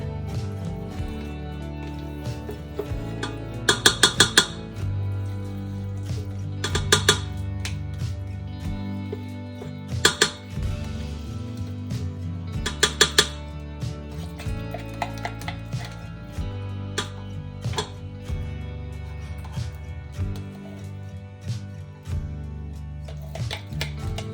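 A small stand mixer churns canned pumpkin for a sweet dip in a bowl, a steady motor drone with intermittent rhythmic clatter and knocking of the beater throughout, no talk.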